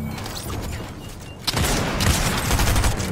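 Sniper rifle shots in the video game Fortnite: a sharp loud burst near the middle, followed by dense crackling gunfire and echoing booms that continue steadily to the end.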